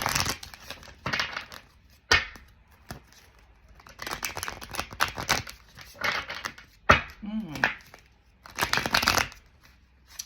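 A deck of tarot cards is shuffled by hand: bursts of crisp riffling and rustling in short irregular runs with quiet gaps between, close up, while a person talks at points.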